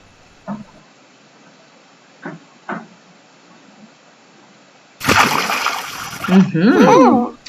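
A stone thrown into a lake lands with a loud, close splash, preceded by a few faint knocks and followed by voices talking over the settling water.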